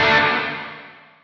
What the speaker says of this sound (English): You hear it, the reverb's there, but it gets cut off right away